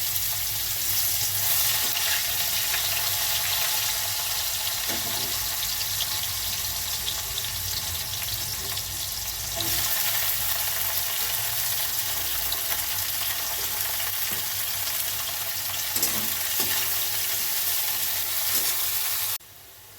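Long bitter gourd strips crackle and sizzle steadily in hot oil tempered with panch phoron, a dense, even frying hiss with occasional soft clinks of stirring, close and continuous with no talk.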